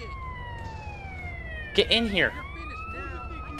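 An ambulance siren wails with falling and rising tones in Grand Theft Auto San Andreas, heard steadily at moderate volume while someone speaks briefly over it.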